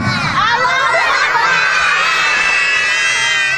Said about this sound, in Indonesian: setelah selesai 3 kali anak-anak langsung takbir